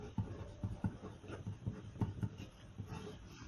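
Chalk or pen writing an equation on a board, heard as a run of quick, soft scratchy strokes in an irregular rhythm, faint and close, with no voice over it.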